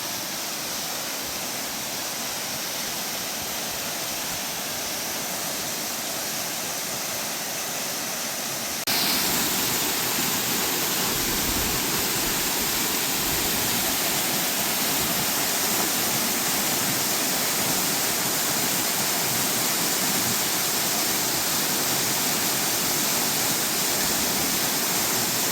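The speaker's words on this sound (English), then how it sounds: "And the falls are flowing really well." Gheerulla Falls, a waterfall in a creek valley, rushes in a steady broadband roar that jumps louder partway through as it is approached, then holds constant and close with no voices.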